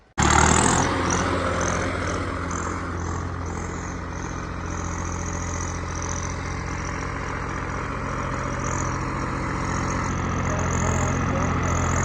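A modified Swaraj 855 tractor engine starts abruptly and then runs steadily with a deep, even rumble throughout, heard up close and loud with no clear talking.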